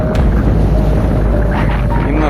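Steady wind rushes past on a sailing yacht, a constant broadband roar with low rumble, loud and close throughout.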